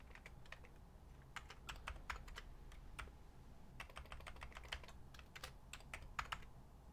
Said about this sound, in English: I can hear you tapping away on the keyboard